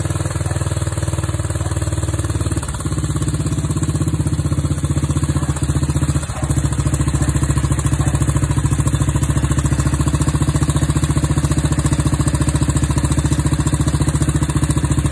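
An engine running with the choke off, a steady loud close idle with an even mechanical clatter and vibration that holds without a break throughout.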